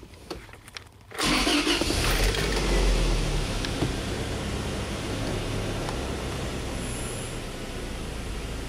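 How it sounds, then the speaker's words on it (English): Car engine, being checked for a lean-condition fault, cranks briefly and catches with a surge, then settles into a steady, close idle that runs on at a fairly high speed. "let's fire up this vehicle"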